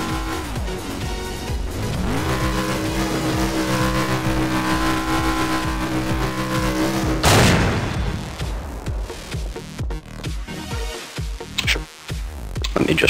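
A Dodge Challenger engine in Garry's Mod with ACF, revving hard against its rev limiter as a loud sustained harmonic drone with a rising sweep, then a sharp burst followed by rougher sputtering, choppy engine noise.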